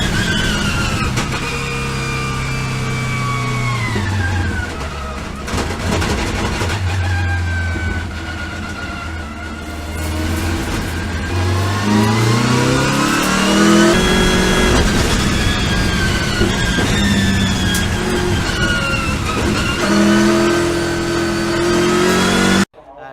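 Race car engine at full effort during onboard qualifying laps at the VLN endurance race on the Nürburgring, loud and close, climbing through the revs, dropping on shifts and braking, and surging again, with no talk.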